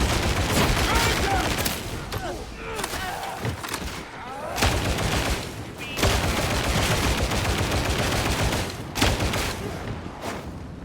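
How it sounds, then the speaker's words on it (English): Dense, continuous gunfire and bursts of shots from a Warhammer 40k Darktide battle, loud and sustained with heavy thumps, under intermittent in-game voices. "Will you stop shooting at me?"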